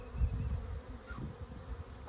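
Swarm of honeybees droning steadily at a newly installed beehive, a dense low buzz with individual bees passing close by, no voices.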